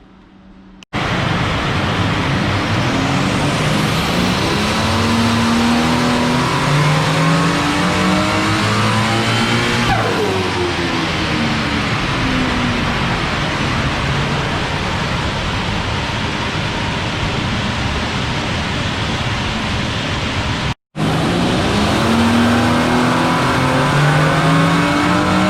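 A 2004 Ford BA XR6 Turbo engine being tuned on a dyno runs loud and continuous, with repeated rising revs under boost as the wastegate curve is set, one brief cut near the end.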